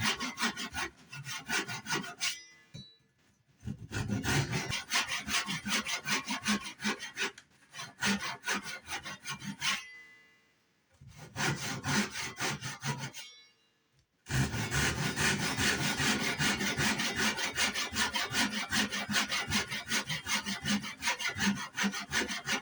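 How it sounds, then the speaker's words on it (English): Hand saw cutting wood for a hand sled: rhythmic back-and-forth rasping strokes in several bursts with brief pauses between, close and loud with no talking. "Now, just going to make a few more cuts in, just going down"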